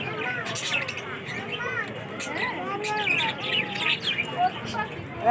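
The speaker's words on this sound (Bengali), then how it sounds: "দেখুন এখানে পাখি কত সুন্দর পাখি" Colourful birds chirp and tweet continuously in a busy city park, bright overlapping calls over a low murmur of distant crowd chatter.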